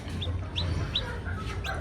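Chickens at a home coop cluck near and clearly, with several sharp rhythmic chirping calls over a low steady hum and no talk.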